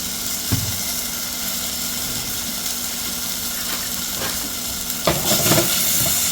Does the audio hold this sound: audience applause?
no